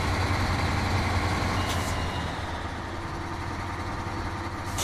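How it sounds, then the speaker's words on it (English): A heavy truck engine in the SnowRunner video game rumbles at a steady idle-like drone, loud and continuous throughout, with a couple of brief hissing bursts like air brakes and no talking. "Let's get this truck out of the way."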